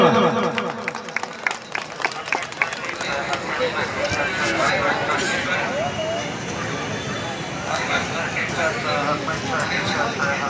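Crowd at a Raja festival queen contest in Bhanjanagar, Ganjam, breaks into applause after some scattered claps and thumps, building into a sustained, dense round of clapping mixed with crowd babble.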